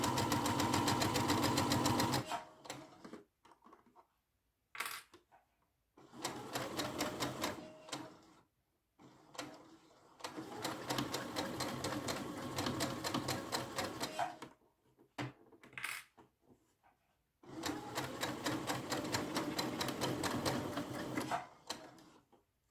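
A sewing machine stitches through a thick fabric bag shaped like a rabbit, running in long steady rattling bursts of fast needle strokes, broken by short pauses and soft handling clicks between runs.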